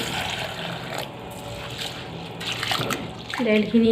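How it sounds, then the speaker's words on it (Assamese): Arhar (pigeon pea) lentils are washed in water in a kitchen, with soft sloshing, splashing and trickling close by and a voice speaking over it. "এতিয়া ভালকৈ ধুই লম দাইলখিনি"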